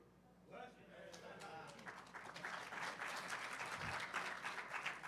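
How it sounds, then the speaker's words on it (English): At a hacker conference talk on DUI/DWI testing technology, applause starts after a brief sound, then builds from scattered claps into fuller clapping from the audience, with voices mixed in. "That's the most applause I've ever gotten."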